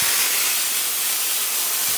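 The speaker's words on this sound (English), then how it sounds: "to get the steam going" Steam wand on a Turin MC3 espresso machine with a three-hole steam tip, heard as a loud, steady, close hiss of steam at full output, with no talking.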